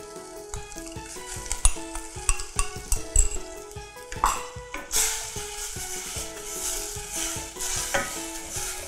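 Thai curry paste fries and is stirred in hot coconut milk in a pan, with a steady sizzle under sharp clanks and scrapes of a utensil against the pan, close and busy, the sizzle swelling louder toward the end.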